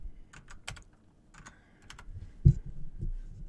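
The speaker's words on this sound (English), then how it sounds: "You try typing with a microphone like literally in front of you, in between your keyboard." Clicky bursts of typing on a computer keyboard, a few quick key strikes, a pause, then more clustered keystrokes up close, ending with a thump and low handling noise.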